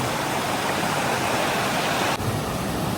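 A river of boiling hot spring water rushes loudly and close, a dense continuous roar and hiss that dips briefly near the end, with no voices.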